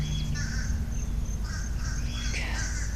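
An Egyptian Fayoumi bird gives several high, thin calls over a steady outdoor background hum, the calls clustering near the end.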